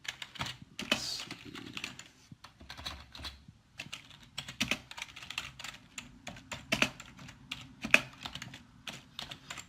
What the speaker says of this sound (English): I'm a pecker and poker on the keyboard.